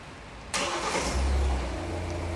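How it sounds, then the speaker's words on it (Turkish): A Hyundai Tucson engine cranks suddenly about half a second in, catches, and settles into a steady low idle close by, with no talking. "Çalıştın aracı."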